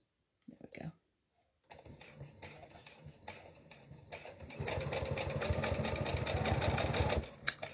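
A sewing machine stitches a pineapple foundation quilt block with a regular presser foot, starting as a sparse, intermittent patter and building into a loud, steady run with a brief clatter at the end.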